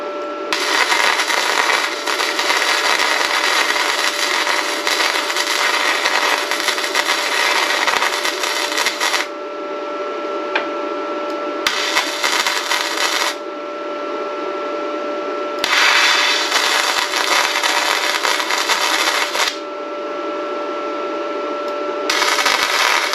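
A small welder fuses thin sheet metal on a cargo trailer in four long, loud buzzing bursts, each broken by short quiet gaps, heard close by with no talking.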